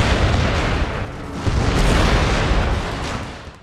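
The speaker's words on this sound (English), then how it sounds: "And then they heard it. The organ guns." Organ guns firing in an Empire Total War battle, a dense rumbling barrage of overlapping booms that swells and fades over a few seconds, loud and without speech.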